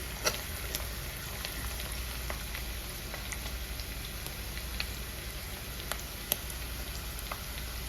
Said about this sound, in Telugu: ఫ్రై అవుతుంది మంచిగా